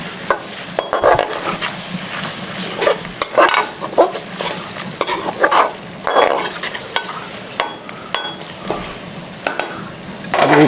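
Chopped onion and capsicum are stirred in a hot pan for chicken jalfrezi, close spoon scrapes and clatters repeating over a steady sizzle.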